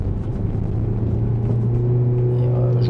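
A car's engine hums and builds steadily during a driving lesson, a constant close drone with a low tone that holds for about three seconds with no clear surge.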